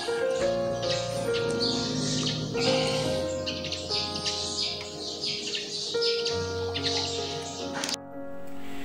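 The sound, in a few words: birds singing in a forest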